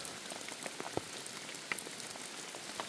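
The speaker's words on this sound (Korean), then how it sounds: "비가 지금 많이 오니까요" Heavy monsoon rain pours steadily onto the ground during the rainy season, a dense continuous hiss with scattered sharper drops tapping nearby, fairly quiet and with no voices.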